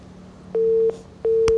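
Telephone line tone as a TV call-in line opens: two steady beeps of equal pitch, each about a third of a second, separated by a short gap, loud and clear over a quiet studio background.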